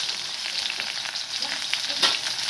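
Onion, garlic and ginger fry in hot mustard oil, a continuous close sizzle with soft stirring scrapes and a brief louder spatter near the end.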